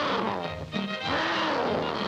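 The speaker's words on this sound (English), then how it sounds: "he heard the most ferocious-sounding roars" A tiger in an old cartoon radio programme lets out ferocious roars: loud, growling cries with a sweeping pitch, heard close and alone with no talking.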